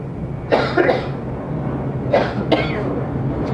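Two short, muffled coughs from someone with a flu, a little over a second apart, close by, against a low steady background hum.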